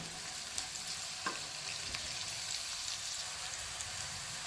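Onions fry as a tempering in a pan, giving a continuous, even crackling sizzle with a few faint clicks from a utensil. Close and steady, with no speech.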